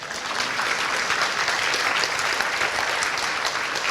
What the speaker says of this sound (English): oh yeah, sure, you could clap for that